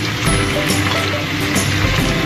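Capsicum and onions going into a hot pan of cooking chicken, a loud continuous frying sizzle with light stirring scrapes.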